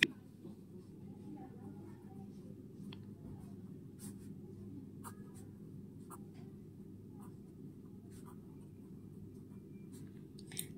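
Pen or pencil writing out common factors of 40 and 24 for a class 5 math lesson, soft scratchy strokes and small taps over a low steady hum.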